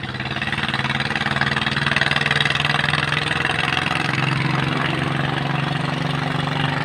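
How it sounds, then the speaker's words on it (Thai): A heavily loaded motorized push cart on a road revs hard in first gear after struggling in second, giving a loud, close, continuous engine drone that swells slightly and holds steady, with no talking. "ไม่ไหวเพื่อน เกียร์สองไม่ไหวเพื่อนเปิดเข้าเกียร์หนึ่งนะ อัดเกียร์หนึ่งขึ้นมาแล้ว"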